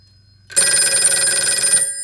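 A Western Electric 302 telephone's mechanical bell rings in one loud, close burst of rapid metallic clanging lasting over a second, with quiet before it.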